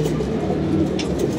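Pigeons coo softly in a loft over a steady low background hum, the throaty calls repeating and overlapping without pause.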